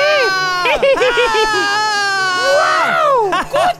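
Children scream loudly together on a cue while waiting for ice cream at a Halloween ice cream truck, a sustained chorus of high wavering shrieks lasting several seconds.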